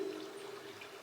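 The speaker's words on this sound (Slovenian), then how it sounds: "potok teče, šumi" Forest stream flowing beside a wild campsite in the woods, a steady, soft murmur of running water that stays faint and continuous throughout with no voices.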